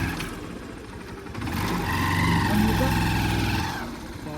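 A motorbike engine runs on a mountain trail near Lauke waterfall in Nepal, a steady low rumble that swells and revs between about 1.5 and 3.7 seconds, with people talking over it.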